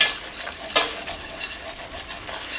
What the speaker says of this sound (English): we're going to mix that in with a whisk